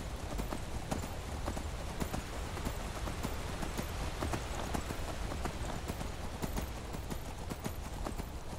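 Horse hooves clip-clop steadily up steep terrain in the video game Skyrim VR, a close, continuous run of quick hoofbeats with no talk over them.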